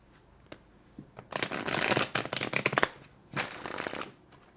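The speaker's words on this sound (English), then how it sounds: "Okay, it's taking a few extra shuffles for you today." Tarot cards being shuffled in bursts: a short riffle, then a long run of rapid crisp card flicks, a pause, and a second shorter burst, close and fairly loud with no talking.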